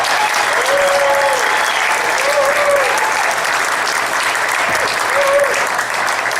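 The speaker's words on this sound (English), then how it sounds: "I don't know if that was enough applause" An audience claps steadily for a speaker at a Tea Party Christmas event in Redlands, a dense sustained applause with faint voices and whoops mixed in.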